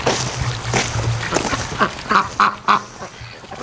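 Free-range farm ducks quack in a rapid series of loud, close calls outdoors, several overlapping honking notes rising toward the end.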